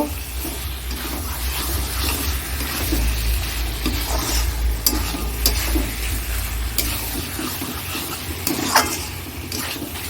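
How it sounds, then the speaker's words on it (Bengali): Chicken being stirred and fried in masala and oil in a pan, a steady close sizzle with scraping strokes and occasional sharp clinks of the spatula throughout. "ভালো করে নেড়ে চেড়ে নিলাম দেখো এটা সুন্দর কষানো হয়ে গেছে তেল ছেড়ে দিয়েছে"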